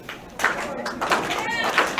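Crowd at a women's professional wrestling match between Deonna Purrazzo and Santana Garrett, cheering and clapping in a steady, lively wash, with a commentator talking over it.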